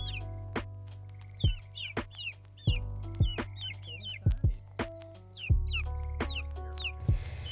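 Four-week-old chicks out in the open air for the first time, giving frequent high, close peeping chirps and soft clucks in an irregular, busy chorus over a low background hum.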